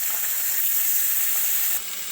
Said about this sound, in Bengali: এবার কড়াই গরম হলে কড়াইতে সর্ষের তেল দিয়ে এবার আমি মাছগুলো ভেজে নেব।